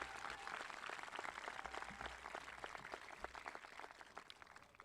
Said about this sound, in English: how about one more big round of applause for all of our speakers this evening?